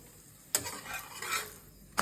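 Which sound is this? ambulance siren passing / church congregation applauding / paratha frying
paratha frying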